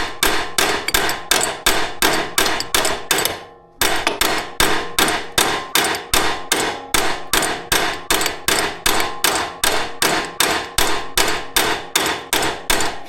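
Hammer blows on a stuck part of a Yamaha Terrapro PTO mower, a long steady run of sharp metallic clangs about three per second, with one brief pause early on, loud and close with no talk.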